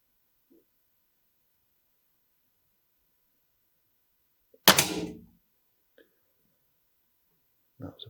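A single sharp crack from a Weihrauch HW57 air rifle fired on a shooting range. It stands out against near silence, with only faint small noises before and after.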